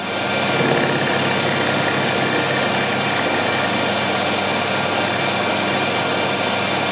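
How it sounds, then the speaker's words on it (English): A milling cutter spins at 1000 RPM in a lathe while squaring a workpiece, giving a loud, steady, unbroken machine whir that runs at even intensity from start to finish. "I've got that cutter running at 1000 RPM."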